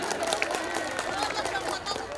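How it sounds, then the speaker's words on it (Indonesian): Audience applause at the Ngabring festival in Ciomas, a steady patter of many hands with crowd murmur and voices underneath, continuous and fairly close throughout. "Tepuk tangan."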